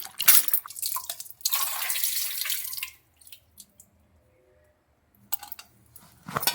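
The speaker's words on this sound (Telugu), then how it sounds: "ఉప్పులు ఉప్పులు కోసుకొని మనం నీళ్ళల్లో వేసుకుందాం వంకాయని బాగా కడుతున్నాం" Cut eggplant (brinjal) is washed in water in a kitchen, with two bursts of splashing and running water close by, then quiet drips and small knocks, and a final short splash.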